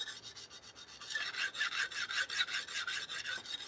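Knife steel rasping back and forth across a coarse whetstone, a steady run of scraping strokes that gets louder and quicker partway through, with no voices.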